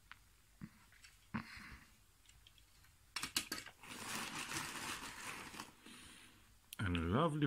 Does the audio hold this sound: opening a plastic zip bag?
yes